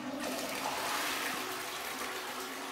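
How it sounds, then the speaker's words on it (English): A household toilet flushes, a steady rushing swirl of water running close and moderately loud through the whole stretch, with no talking over it. "That's 5 gallons of water flushed down the toilet right there."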